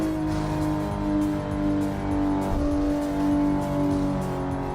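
A racing car engine in the Assetto Corsa driving simulator drones and revs steadily, holding a tonal whine that dips and rises once mid-clip, with no talk.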